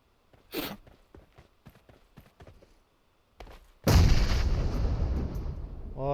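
Grenade blast in an online shooter game, a sudden loud, broad boom that rumbles on for a couple of seconds, preceded by a few soft thuds and footstep-like taps.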